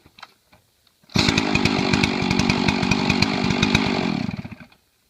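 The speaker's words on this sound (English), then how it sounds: "She'll restart like normal now. Just click it on." Chainsaw, just cleared of flooding, fires up after a few faint clicks and runs at a loud, steady idle-to-rev buzz for about three seconds before cutting off.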